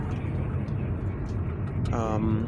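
Evening road traffic in the city of Pretoria forms a steady low rumble with a brief tonal whine near the end, and no clear voices come through.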